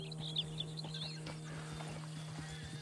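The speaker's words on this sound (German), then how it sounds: "Da sind Pferde." Wild horses in the video game Red Dead Redemption 2, soft clip-clop hoofbeats and faint whinnies at moderate distance over a low steady hum, with high bird chirps scattered above.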